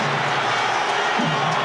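Upton Park football crowd roaring and cheering for young players during an England–Socceroos match, a broad, steady wash of stadium noise with no break.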